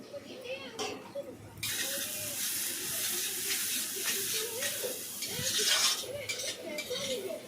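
Chicken pieces fry in a pan for a chicken curry: a steady broad sizzle swells after a quieter start, with stirring and pan clatter, while a voice talks over it throughout.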